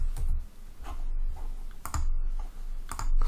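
Typing on a computer keyboard into a plugin search field, a few quick clusters of key clicks close to the mic with short pauses between bursts.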